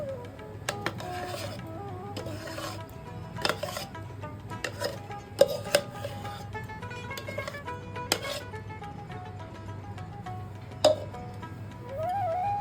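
Ground poppy seed paste being mixed into flour in a bowl, producing irregular soft taps, clinks and scrapes over a steady low background hum, with no one speaking.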